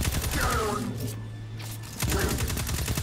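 Automatic gunfire from an auto rifle in the Destiny 2 video game, rapid bursts at the start and again at the end with a lull in the middle, loud and close over a steady low game hum.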